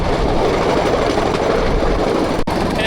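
A bamboo train rattles and clatters loudly along the track in Battambang, Cambodia, with a continuous close rumble and a sharp jolt near the end.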